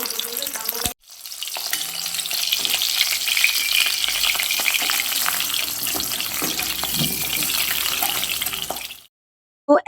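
Pomfret fish frying in very hot oil in a wok, a loud continuous sizzle that starts abruptly after a brief pause and holds steady until it cuts off near the end.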